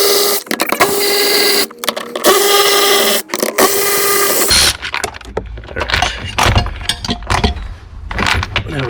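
A 12mm socket and ratchet work bolts loose on a Mitsubishi Evo X, a fast rattling ratchet whir followed by clanks and metallic clicks of the socket and bolts, close and loud with no talking.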